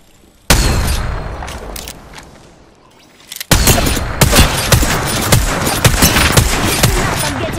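Gunfire in the battle royale game Apex Legends: a brief quiet lull, then a short burst, then a sustained loud barrage of rapid automatic shots and impacts that runs to the end.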